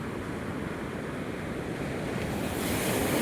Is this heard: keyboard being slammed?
no